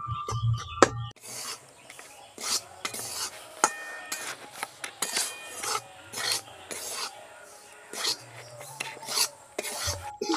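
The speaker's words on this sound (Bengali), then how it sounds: "হালকা আঁচে নাড়াচাড়া করে দেখুন একটু লালচে করে ভেজে নিয়েছি।" Flour is stirred and dry-fried in a pan over low heat, producing repeated rasping scrapes of a spatula against the pan in an uneven rhythm, close and fairly loud, with a brief clatter at the start.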